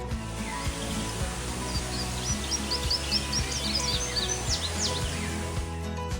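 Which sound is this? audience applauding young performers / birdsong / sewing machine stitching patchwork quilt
birdsong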